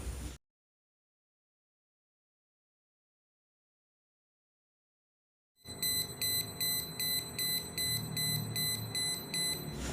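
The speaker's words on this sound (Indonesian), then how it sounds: "test pen yang tune ini kita dekatkan dengan kabel ini, bila dia ada aliran listrik, dia akan berbunyi" A digital voltage test pen held near a live electrical cable gives a rapid, steady run of high electronic beeps. The beeping starts abruptly after several seconds of silence and continues loudly to the end.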